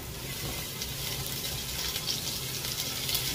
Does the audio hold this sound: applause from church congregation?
no